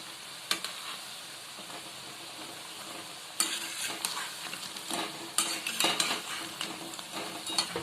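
Steady oil sizzle of banana flower fritters deep-frying, with occasional scraping and clinks of a utensil in the pan; no voices.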